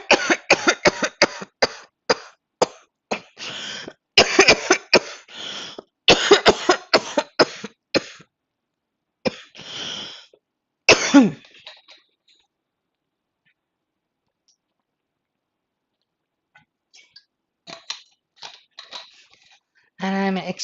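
Repeated harsh coughing fits from a lecturer during an online English-language test review session, bursts of several close, loud coughs separated by short pauses, with a long quiet stretch before a few more throat sounds near the end.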